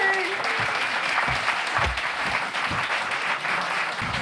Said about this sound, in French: Merci de faire un premier applaudissement pour Alexis Le Rossignol.